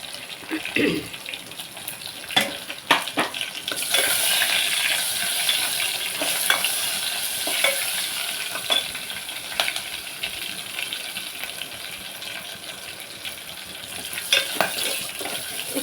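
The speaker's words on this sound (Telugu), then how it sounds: "ఇప్పుడు నూనె కాగుతుంది వెల్లుల్లిపాయలు వేసుకున్నాను" Crushed garlic frying in hot oil for a chana dal and coconut curry, a steady bright sizzle with scattered crackles and pops, close up, throughout.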